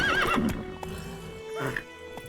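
A horse in the Witcher 3 video game gives a loud, wavering neigh, then hoofbeats clop and a second brief whinny follows, with game sounds around it.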